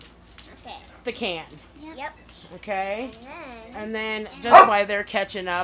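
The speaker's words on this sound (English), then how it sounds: "Excuse my barking dogs." Dogs barking and yipping in short bursts, some high whiny yelps, in a home while an adult talks over them, barks fairly close and loud in places.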